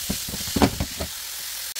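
Thyme frying in a pan for white sauce spaghetti, a steady close sizzle with a few louder spitting bursts, then settling to a softer hiss.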